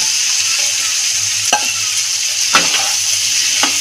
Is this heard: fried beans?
yes